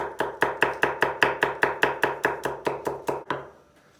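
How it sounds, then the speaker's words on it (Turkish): A knife chops green onions steadily on a board, about sixteen even, close strokes in a quick rhythm, then stops. "Yeşil soğan doğruyoruz."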